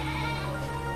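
Goat bleating in a steady, sustained call over a dense, noisy background, listed among livestock such as rams and a cow in a Nigerian village setting; no talk over it.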